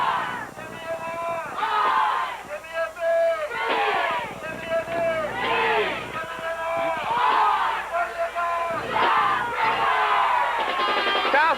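High school football crowd at South River roaring and cheering during a 1986 game against Keyport, a dense sustained wall of shouting voices that swells and surges throughout.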